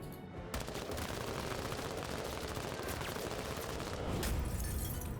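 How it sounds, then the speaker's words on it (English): Continuous rapid automatic gunfire from the video game Menace, dense and steady for several seconds at moderate level, with no talking. "Alright, we gotta gun him down then."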